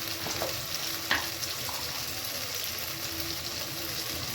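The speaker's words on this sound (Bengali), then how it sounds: "তাই আমি স্মেলটা সরানোর জন্য আমি একটুখানি দিচ্ছি টক দই।" Mutton ghugni sizzles steadily in a pan over high flame as a little sour yogurt goes in, with close, even frying hiss and a few light stirring clicks, no speech.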